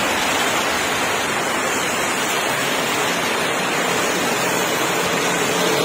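Steady rain falls while water flows and pours down nearby, a dense, even rushing hiss that holds at the same loud level throughout with no voices.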